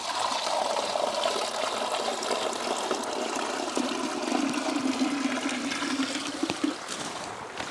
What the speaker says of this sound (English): we're just going to pour it through that mesh bag so that we don't get organisms or debris in there